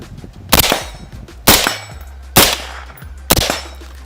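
Four loud shots from a UAR-15 rifle on a military firing range, fired one at a time at roughly one-second intervals, each sharp crack followed by a short ringing echo.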